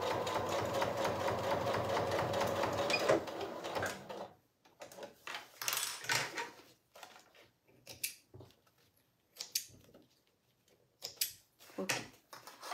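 A sewing machine stitches a seam on a fanny pack through piping and a zipper: a steady whirring run for about three seconds, then short stop-start bursts of stitching, close and clear.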